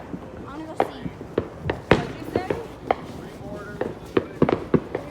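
Fourth of July fireworks mortars going off outdoors, a string of sharp booms and crackling bursts at irregular intervals, loud and fairly near, with people talking and reacting in between.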